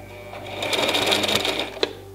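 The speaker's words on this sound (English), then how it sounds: "So let's sew in reverse first. I'm pushing down on the pedal as well as the reverse lever." A Brother XL2600i sewing machine stitches in reverse with the pedal and reverse lever held down, giving a short, close whirring run that ends with a sharp click.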